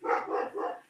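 A dog barks at someone arriving at the door: three close, loud barks in quick succession, each fading out, with no talking over them.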